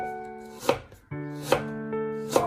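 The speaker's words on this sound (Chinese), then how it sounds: "再改刀把它切成姜丝，最后再切成姜末就可以了。" A kitchen knife chops peeled fresh ginger on a cutting board, cutting it into shreds and mince, with three sharp, close knocks about once a second over a quiet background.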